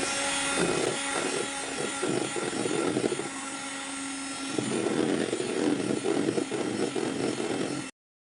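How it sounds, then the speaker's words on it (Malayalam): An electric hand mixer whirs at low speed through eggs and sunflower oil for a milk cake batter, a loud, continuous motor drone with a slight wobble that stops abruptly near the end, no voices. "ഇനി ലോ സ്പീഡിലിട്ടിട്ട് ഒന്ന് മിക്സ് ആക്കി കൊടുക്കുക."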